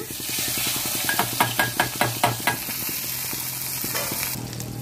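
Loud sizzling and frying crackle as a hot oil tempering is poured into Tamil-style pongal, with a quick run of rhythmic stirring scrapes in the middle, no voices.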